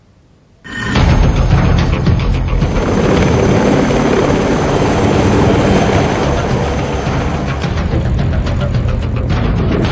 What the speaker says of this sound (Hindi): आप देख सकते हैं ये चीता हेलीकॉप्टर जो है इस समय एयर सप्लाई लेकर सियाचिन ग्लेशियर की तरफ रवाना हो गए हैं